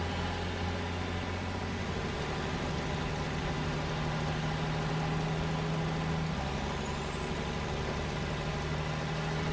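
A heavy truck engine in the game Snowrunner drones steadily in low ratio while climbing a hill, a loud continuous rumble with a faint high whine sliding upward partway through.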